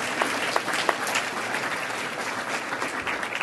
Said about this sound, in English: I do think we should give a round of applause to TransLink.